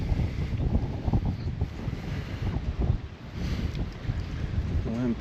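Strong wind buffets the microphone atop a tall overlook at a state park, a steady loud rush and rumble throughout, with a brief voice near the end.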